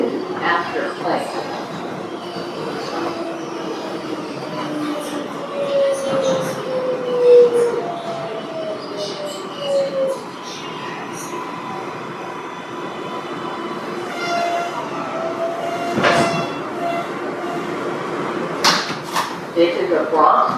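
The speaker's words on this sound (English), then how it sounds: "This is a Bronx-bound 6 local train." A Bronx-bound 6 local on the New York City subway, an R142A car with no HVAC running, rumbles steadily along the tracks with rattles, clanks and brief squeals, its onboard announcements heard over the noise.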